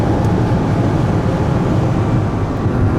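An 800 HP G-Power BMW M5 V10 Bi-Kompressor Hurricane RR accelerating on the German Autobahn, with a steady, loud, dense roar of engine and road noise throughout and no talking.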